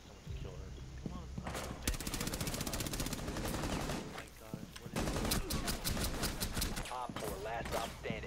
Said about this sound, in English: Ashes shooting through a window.